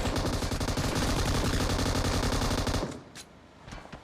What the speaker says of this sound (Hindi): ओ शॉट्स आ रहे हैं, शॉट्स आ रहे हैं।